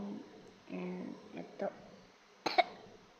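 A person coughs a couple of times amid quiet, soft talking nearby.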